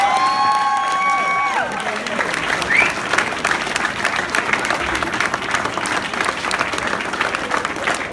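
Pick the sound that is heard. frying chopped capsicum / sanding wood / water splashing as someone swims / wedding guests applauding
wedding guests applauding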